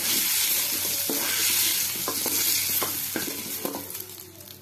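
Potatoes with salt and turmeric frying steadily in a pan, a constant close sizzle broken by several sharp scrapes and clacks of stirring, with no talking.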